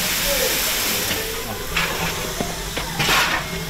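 Steady loud hiss of venting steam from a steam train stopped at a station in Jiayang, China, with a few sharper bursts of release and faint background voices.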